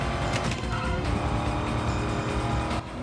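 A car in a film chase scene revs hard under acceleration, a dense, loud, continuous engine roar with brief dips where gears change, close and alone without speech.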